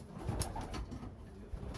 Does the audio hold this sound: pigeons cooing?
yes